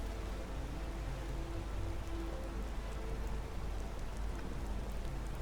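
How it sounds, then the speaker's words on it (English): Steady, even rain hiss in the video game Skyrim, a continuous wash of raindrops falling on surfaces at constant loudness with no pauses or talking. "Hey, I'm just sheltering from the rain."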